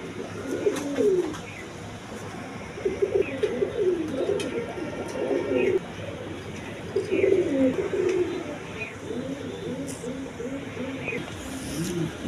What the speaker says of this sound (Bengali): বন্ধুগণ এখানে একদম বিগ সাইজের ইরানি বারহুমা আছে দেখেন